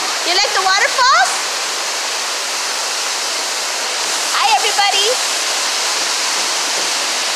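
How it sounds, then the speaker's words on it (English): Steady broadband rush of a waterfall fills the whole stretch at an even level, with excited voices and a child's chatter breaking in over it near the start and again midway. "You like the waterfalls?"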